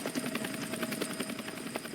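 Rotor blades thump in a rapid, steady rhythm as a video game helicopter hovers nearby, a continuous whirring drone with no voices.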